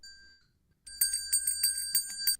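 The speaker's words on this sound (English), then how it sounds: "Let me do the Spanish bell." A small bell rings out in a quick run of about six bright, metallic strikes, close and clear after a brief near-silent pause.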